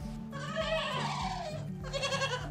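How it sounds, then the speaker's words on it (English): Two pet pygmy goats bleating up close on a farm in springtime, several wavering cries in quick succession over a low steady hum, loud and clear with no talking. "They're my two little pet pygmy goats, Spud and Smokey."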